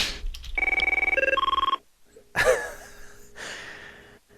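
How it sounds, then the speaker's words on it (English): An AT&T Merlin office phone rings with a loud, electronic warbling trill lasting about a second, then cuts off, followed by a sharp breathy gasp and some faint rustling noises. "Sounds like an AT&T Merlin phone."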